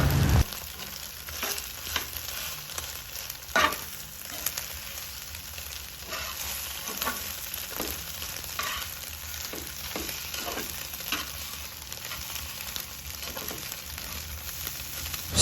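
Breakfast food frying in a pan, a continuous close sizzle with scattered scrapes and clinks of stirring running throughout.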